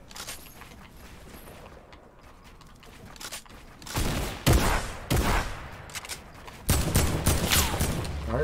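Gunfire in a Fortnite-style arena match, a quiet stretch followed by several loud sharp shots and rattling bursts in quick clusters, close and harsh, with no voices.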